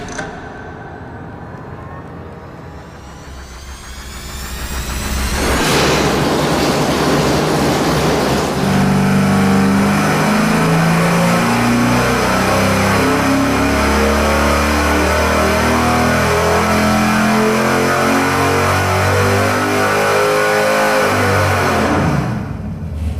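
A stock versus stroked engine on a dynamometer cranks and fires, then revs hard and holds a loud, steady high-rpm roar for a long pull before the throttle cuts at the end.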